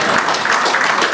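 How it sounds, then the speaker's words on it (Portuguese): An audience at a Santa Maria island cantoria ao desafio festival applauds in a dense, even burst of clapping, loud and close, briefly and without a break. "uma grande salva de palmas, porque bem merecem"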